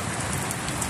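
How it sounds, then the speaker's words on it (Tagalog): Steady rain pours outdoors at Sitio Burol in Rosario, Cavite, as a dense, even hiss of drops filling the whole second with no voices. "Ayan, inaabot na ng ulan."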